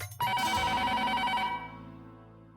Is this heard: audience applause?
no